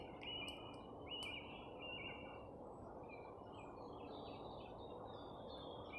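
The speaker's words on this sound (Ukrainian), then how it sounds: "Пташки співають. Послухайте." Faint high bird chirps and short whistled calls ring out over a soft, constant woodland hiss in a spring forest in Kyiv Oblast, Ukraine, distant and sparse.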